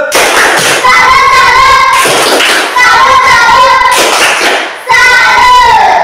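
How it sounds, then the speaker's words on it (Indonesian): A classroom of students doing the 'tepuk salut' salute clap, loud bursts of rhythmic group clapping in three waves over about six seconds, with young voices mixed in. "Tepuk salut"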